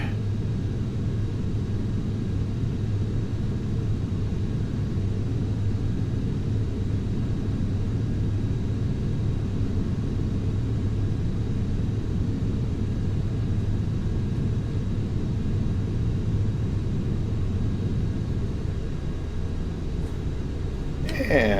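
A Microsoft Flight Simulator X airliner on its takeoff roll: a steady, loud, low engine roar and broadband rumble that holds evenly throughout, with a brief extra noise burst at the very end.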